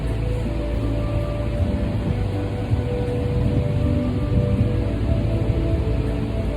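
Steady rain falls outside a yoga studio, a continuous, even wash of patter at moderate level with no voices.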